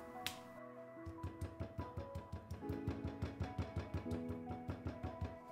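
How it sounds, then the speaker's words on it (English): A knife taps rhythmically on a cutting board, pounding and scoring pork loin, a fast even series of light chopping knocks close by, with faint background music underneath. "Very gently pound and tenderize the pork with your knife"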